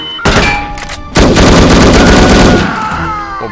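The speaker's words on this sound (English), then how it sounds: "Who's shooting me?" Gunfire in the video game No One Lives Forever: loud, dense bursts of shots fill most of the moment, with a heavy sustained volley near the middle, heard alone with no talk.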